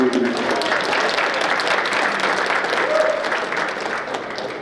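People at a New Mexico Democratic Party committee meeting clap together in a sustained round of applause, steady and fairly loud, with a few faint voices underneath.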